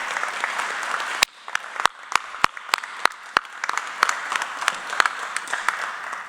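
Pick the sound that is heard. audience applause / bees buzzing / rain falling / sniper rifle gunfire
audience applause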